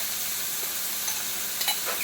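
Homemade sofrito hisses steadily in a hot pot as it is stirred, with a close, even sizzle and a few soft scraping ticks.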